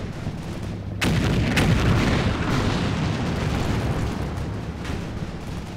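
An M12 GMC, a giant self-propelled gun on tracks in the WWII wargame Combat Mission, fires a single heavy shot, a sudden loud boom that rolls into a long rumbling echo and fades slowly, with no voices.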